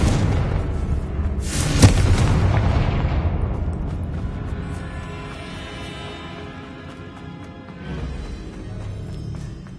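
The Confringo spell in the Hogwarts Legacy video game sets off a loud, booming explosion with a sharp crack near the start, then a long rumbling debris tail that slowly fades.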